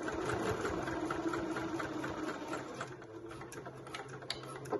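A sewing machine stitches a fold-over clutch bag with gold binding, a close whirring motor hum running steadily before easing slightly near the end, with no one talking.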